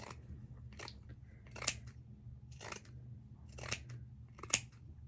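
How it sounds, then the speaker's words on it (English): Pinking shears trim through doubled fleece fabric for a hat and scarf, with five crisp, quiet snips at a steady, unhurried pace over a faint low background hum. "I'm going to just take my pinking shears and just start trimming"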